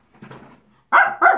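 A dog gives two loud, close barks in quick succession after a quieter stretch of low grumbling or growling.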